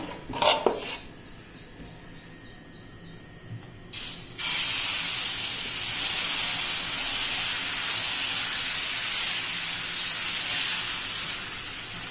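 Dosa batter poured onto a hot griddle breaks into a loud, steady sizzling hiss after some quiet clinks and faint background chirps, then holds evenly to the end.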